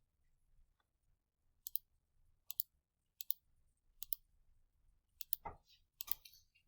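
Calculator buttons are pressed one at a time to enter a function, six crisp plastic clicks spaced under a second apart, quiet and close, ending with slightly busier tapping.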